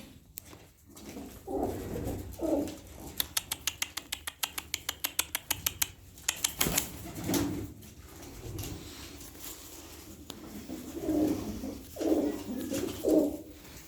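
An excited male pigeon cooing in a loft, with bursts of throaty coos and a rapid run of sharp clapping or snapping sounds in the middle, close and moderately loud, with a voice briefly nearby.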